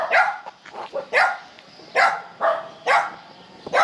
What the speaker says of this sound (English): But I don't like the dog is barking.